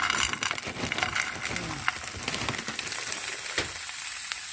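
A salmon steak sizzles steadily in a hot pan, a dense continuous frying hiss with a few scraping stirs, close and fairly loud, with no talking.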